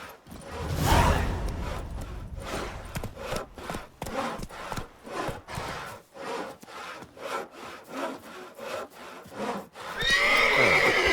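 Roach, Geralt's horse in The Witcher 3, gives a loud whinny, then hooves beat in a quick, steady rhythm of close thuds for several seconds before a whoosh of wind.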